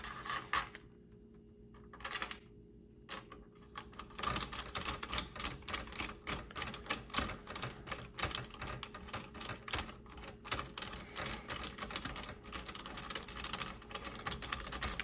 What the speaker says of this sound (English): and now I'm going to screw them in.